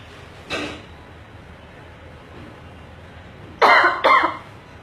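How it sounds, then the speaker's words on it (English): One short cough, then a pause and two louder, harsher coughs close together, near and clear against a quiet room. "Sorry, I'm coughing."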